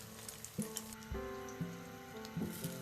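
An egg frying in oil in a frying pan over a low-medium flame gives a soft, faint sizzle, with a few gentle clinks and taps of a utensil and no voices.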